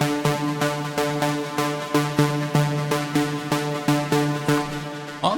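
In a progressive house drop, a Serum synth pluck with filter cutoff automation repeats in a fast, regular rhythm of bright, punchy notes. It plays alone and keeps a steady level throughout.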